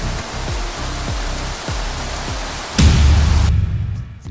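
Broad constant roar of rushing water at Kalu Waterfall in the Sahyadri hills, loud and close, with a series of rhythmic low thumps early and a heavier gust of rumble near the end.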